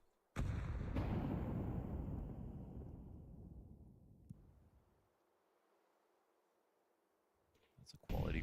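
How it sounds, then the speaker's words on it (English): A grenade explodes in Counter-Strike during a FNATIC vs Legacy match at BLAST Bounty Fall 2025: one loud, close blast with a long, fading rumble, then quiet, then a brief burst of game noise at the end. "That's a quality grenade here."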